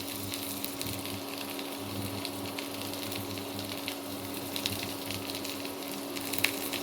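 Steady frying sizzle from a pan of rice with faint scraping of stirring, close by and continuous, with no talking.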